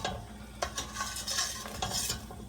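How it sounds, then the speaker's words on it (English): Caramel for caramel corn is stirred constantly in a pan on a gas stove, a quick steady scraping of the utensil against the pan over a soft sizzle, close and unaccompanied by voices. "I stir it constantly because with the gas stove, the heat will run up the side of the pan"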